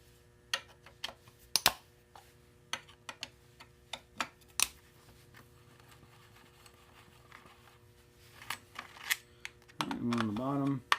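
Sharp metallic clicks and ticks of an 8 mm wrench working bolts loose on a small-displacement motorcycle, spaced irregularly and close, with a brief burst of talk near the end.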